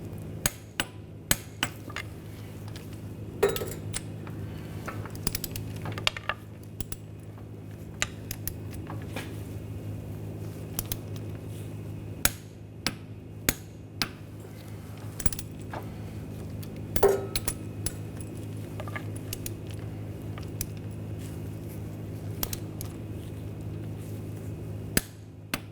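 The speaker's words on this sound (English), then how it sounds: "I'm just going to use a pry bar just to prevent this from spinning and torque these bolts to 43 foot-pounds." A wrench torques the CV axle bolts on a 2013-2022 Buick Encore's right rear axle to 43 foot-pounds while a pry bar keeps the axle from spinning. Sparse, sharp metallic clicks and taps sound at irregular intervals, quiet and without talk.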